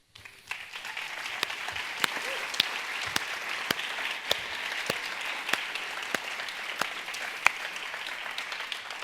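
A conference audience applauding a team of student helpers, steady sustained clapping from a sizable crowd with a few sharp louder claps standing out, continuing evenly without voices.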